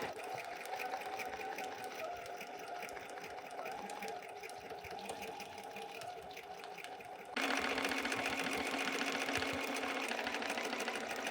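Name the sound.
sewing machine stitching fabric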